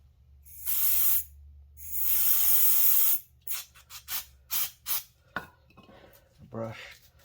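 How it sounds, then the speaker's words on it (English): Brake cleaner aerosol sprays onto front brake caliper bolts in two long hissing bursts. Several short quick spurts and faint scraping follow, all close and moderately loud, with no voices. "So just going to use the brake cleaner again."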